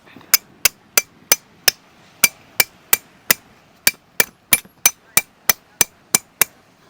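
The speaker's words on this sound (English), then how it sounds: "these tools here, the nails and the hammer" Sharp, evenly spaced hammer strikes driving nails into sand to pin a tent at a lakeshore campsite on Lake Baikal, about twenty in quick steady rhythm, close and loud with little else around them.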